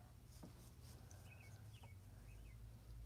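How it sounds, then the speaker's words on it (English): Birds sing at a feeder just outside a window, faint short chirps and whistled trills scattered over a low indoor hum, distant and quiet with no talk. "I hear the birds right outside the window."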